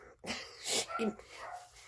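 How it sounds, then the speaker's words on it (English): A dog barks a few times in quick, sharp bursts, fairly close, with a short whimpering yip at the end. "she may be barking because there's a dog out there"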